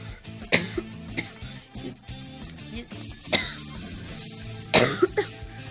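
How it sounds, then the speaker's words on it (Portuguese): Three sharp coughs at about half a second, three and a half seconds and near five seconds, each a short burst with a smaller follow-up, heard close against quiet background game music while playing Zombie Tsunami. "Meu tosse muito ruim."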